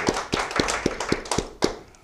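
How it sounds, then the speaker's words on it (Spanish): A handful of sharp, separate claps or taps, about six in two seconds, fairly close and moderately loud, with no voices. "Un aplauso, por favor."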